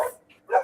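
A shy rescue dog barks twice, a short bark at the start and another about half a second later, with near silence between the two.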